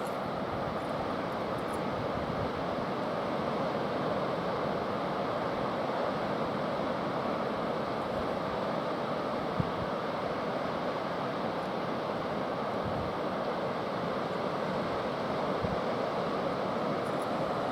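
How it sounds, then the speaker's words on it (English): Steady wash of sea waves coming ashore on the East Yorkshire coast on a misty morning, a continuous broadband surf roar with light wind, unbroken and even for the whole stretch. "just let you listen to those waves coming in"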